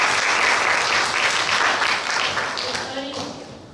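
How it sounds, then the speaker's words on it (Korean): Audience applause at a workshop panel discussion, loud and steady broadband clapping from a crowd that gradually thins and fades toward the end, with a faint voice emerging at the close. "박수 한번 주세요."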